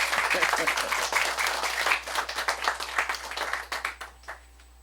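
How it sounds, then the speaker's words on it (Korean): Audience applause closing a school debate at a Korean middle school, with lively clapping that swells, then thins and fades into scattered claps near the end, with voices mixed in. "여러분 다 같이 크게 박수로 우리 자신 축하"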